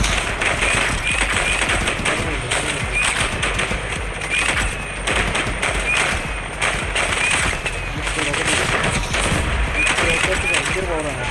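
Gunfire in a Roblox game crackles in rapid bursts and dense volleys, loud and near, with rocket-like blasts mixed in over a constant busy din of game sound.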